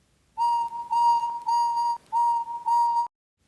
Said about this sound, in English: he whistled happily.